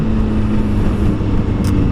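A Honda Hornet 600 motorcycle accelerates with a loud, steady engine roar and wind rush heard from the rider's position over a short stretch.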